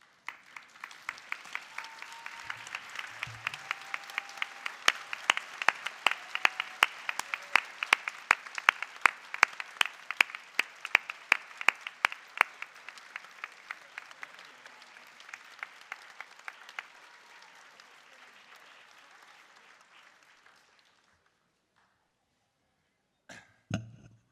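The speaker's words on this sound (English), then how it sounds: "would you please stand and give them a very big round of applause." Graduates at a degree ceremony applauding their friends and family, a large hall filled with a crisp wash of clapping with sharp rhythmic accents, building and then fading over about twenty seconds before near silence and a few stray sounds.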